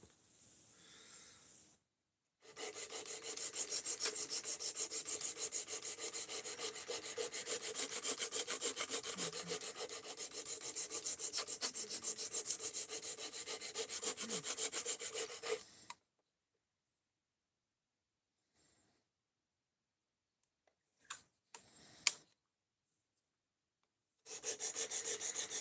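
Knife rubbed steadily along a sharpener in a long, even rasping stretch of about thirteen seconds, then silence, a few short scrapes, and the rasping resuming near the end.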